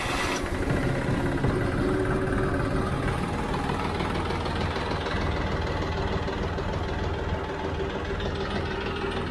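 A cold John Deere farm engine, used with hay equipment, turns over and settles into a rough, knocking idle that stays loud and close throughout.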